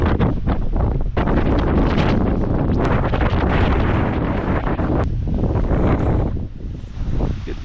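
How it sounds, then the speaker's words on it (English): Strong wind gusting near fifty miles per hour in a snow storm at a snowbound camp, roaring and buffeting hard against the microphone in loud continuous blasts that ease slightly near the end. "It's gotta be gusting 50 miles per hour out here."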